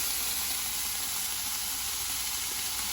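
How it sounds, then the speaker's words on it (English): Seasoned broccoli cooks in an air fryer with a steady, soft hiss and sizzle that continues unbroken from start to finish, with no talk over it. "I'm about to add it into my air fryer"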